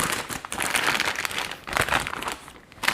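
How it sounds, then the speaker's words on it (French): A pastry piping bag being turned inside out for a pear vanilla charlotte: soft, close crinkling and rustling of the bag material in uneven bursts, fairly quiet, with no speech. "Et là, maintenant, je vais retourner la poche."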